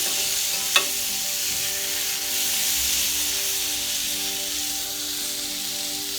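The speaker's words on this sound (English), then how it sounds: "Saute everything." Ivy gourd with chopped tomato and tamarind sizzles in a pan as a steady, hissing fry, with one sharp clink near the start and no voices.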